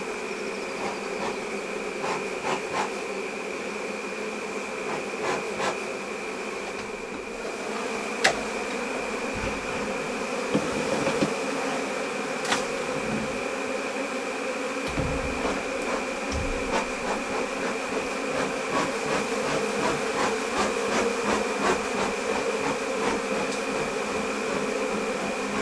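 A dense swarm of bees buzzes around a hive during removal, a steady close drone running throughout with scattered taps and knocks from the work, and no speech.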